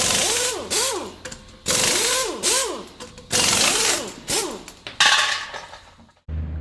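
A hand ratchet turns steering box bolts on a vehicle, loud close clicking strokes repeated in bursts of several pulls with brief pauses between, ending in a short final stroke.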